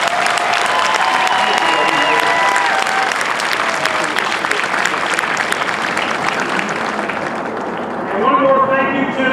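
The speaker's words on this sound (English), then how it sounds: "Let's give a round of applause to our MTI." Large crowd at an Air Force basic training graduation parade applauds the military training instructors, a loud, dense roar of clapping that fades, with voices and a rising cheer near the end.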